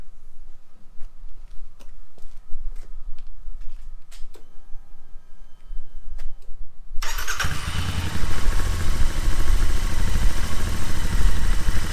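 A Royal Enfield Interceptor 650 fitted with slash-cut exhaust pipes is heard. There are a few soft clicks and ticks while it sits quiet, then the engine fires abruptly and settles into a loud, steady, close idle that continues to the end.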